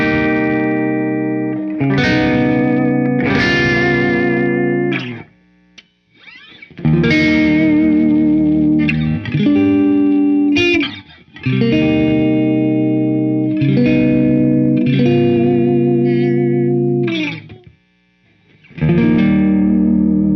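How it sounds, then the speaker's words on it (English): Fender American Professional II Jazzmaster electric guitar played through its pickup combinations with light overdrive: sustained distorted chords and riffs, loud and close, in several phrases separated by brief pauses. "I find a little more benefit in hearing those pickup combinations with a little bit of light drive."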